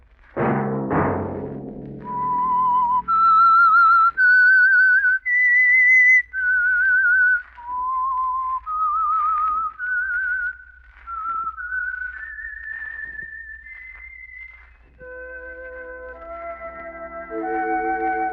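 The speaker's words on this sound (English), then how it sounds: "Let that whistle be your signal" Loud, clear whistling carries a slow melodic theme tune of sustained notes on a 1948 radio program, preceded by a brief musical sting and joined near the end by soft accompanying tones.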